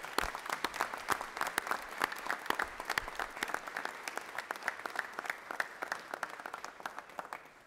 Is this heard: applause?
yes